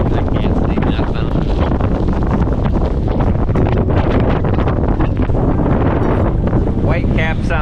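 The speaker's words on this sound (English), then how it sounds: "in a sustained 25-knot wind" Strong, roaring 25-knot wind with gusts to 40 buffets the microphone continuously on the Hudson River during whitecaps, with rushing water and gusty noise throughout; no clear talking over it.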